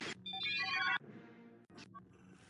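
A telephone rings in the video game Jedi Outcast, bright electronic warbling tones in quick bursts separated by short pauses, clear and fairly close with no talking.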